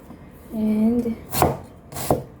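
A knife chops an onion on a cutting board, giving two sharp, close strikes in the second half, after a brief tonal hum.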